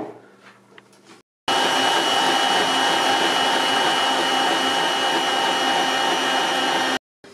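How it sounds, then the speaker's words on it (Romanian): Electric mixer beating cake batter for a quick jam and walnut cake, a loud steady motor whir with a continuous high hum that starts abruptly after a short quiet moment and cuts off sharply, heard close up. "Toată compoziția o mixăm timp de 10 minute la mixer."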